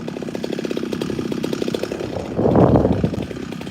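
A new Send It chainsaw idles outdoors in a forest after unboxing, a close, steady buzzing putter with a brief rise in revs before it settles back.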